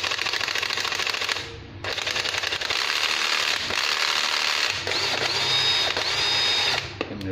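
A 12V cordless drill in drill mode whirs steadily and loudly close by, with a brief dip in speed partway through, then runs on before stopping.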